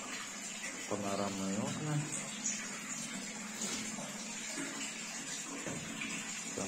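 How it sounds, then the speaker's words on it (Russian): A village spring spills water in a steady, close, rushing flow, while someone speaks briefly over it. "там родник и ковшик, кому нужно, нужно водички и попить"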